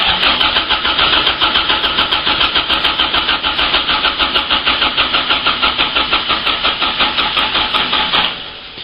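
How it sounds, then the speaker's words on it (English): A car engine is cranked by a starter on a lithium ion battery, turning over quickly in a rapid, steady rhythmic whirr for about eight seconds before it cuts off. "when I first cranked it, the engine was spinning over quickly again"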